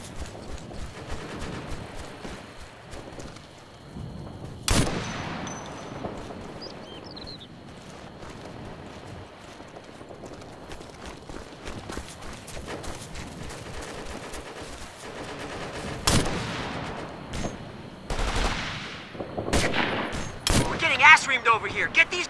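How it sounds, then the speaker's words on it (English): Heavy gunfire from rifles and automatic weapons in the military shooter Operation Flashpoint: Red River, with sharp bursts and loud impacts, especially near the start and again toward the end, over a steady background of combat noise and occasional voices. "We are under heavy fire and the EOD team's been hit."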